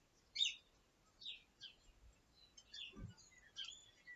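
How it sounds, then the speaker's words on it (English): Faint, scattered chirps and short tweets of birds singing in a garden, coming in brief bursts against a quiet background. "You might be able to hear the birds singing."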